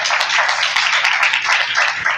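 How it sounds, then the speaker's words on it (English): A crowd at a voters league gathering applauds steadily, dense clapping close and continuous throughout with no break. "So please give her a round of applause."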